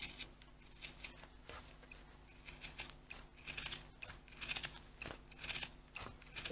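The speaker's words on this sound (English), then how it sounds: "Use your pinking shears and cut all the bulk" Pinking shears chomping through fabric bulk near a seam gap, a steady series of crunchy, close snips with irregular rhythm, quiet and unaccompanied by talk.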